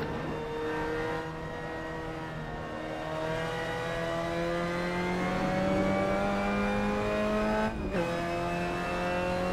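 A Mazda MX-5 race car in the Assetto Corsa racing game hums through a steadily rising engine note in gear, then briefly drops at a shift before climbing again, with faint tire noise beneath.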